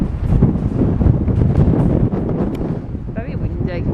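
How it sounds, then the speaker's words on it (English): Strong gusts batter the microphone outdoors on a walk around a hotel perimeter awaiting demolition, a loud, continuous rumbling roar with buffeting bursts and a voice briefly heard near the end. "It's quite windy."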